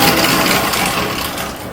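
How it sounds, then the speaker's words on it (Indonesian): The electric motor of a serundeng-making machine runs at 1500 rpm, producing a loud, steady whirring hum with broadband mechanical noise, close and continuous through the short clip. "motor dengan kecepatan 1500 rpm, sementara pisau dengan kecepatan 300 rpm."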